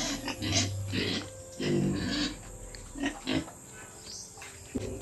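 Piglets in a pen oink and grunt in short, irregular bursts, heard close and fairly quiet, with a few louder squeals near the end.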